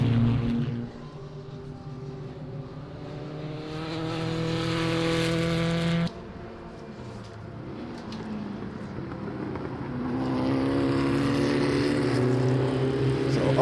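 Formula Vee race cars roar down a back straight toward a hairpin on an opening lap, engines whining and swelling as they pass close by, one sound dropping away abruptly before more cars build in.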